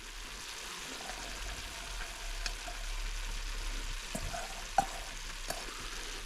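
Chopped onion frying in a soup pot alongside browned sausage, a low, steady sizzle with occasional stirring clicks and a few sharp utensil taps against the pot, heard alone without talk.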